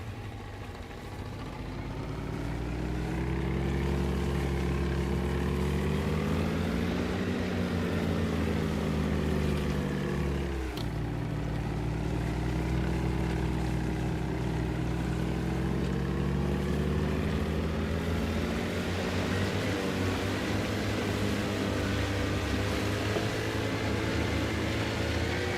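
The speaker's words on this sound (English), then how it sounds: "our engine is badly damaged, but it is still functional" A badly damaged boat engine in DayZ drones on steadily and loudly for the whole stretch, with a rough, wavering pitch and one brief hitch partway through, and no voices.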